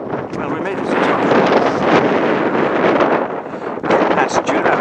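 Strong wind buffets the microphone on an open hilltop at Dunadd in Scotland, a loud, continuous roaring rush with gusts that rise and fall throughout.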